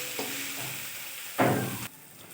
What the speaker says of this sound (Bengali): এবার আমি কাঁচা লঙ্কা চেরাটা দিয়ে দিচ্ছি। দিয়ে ভালোভাবে একটু নেড়ে চেড়ে নিচ্ছি।